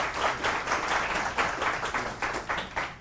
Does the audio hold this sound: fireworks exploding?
no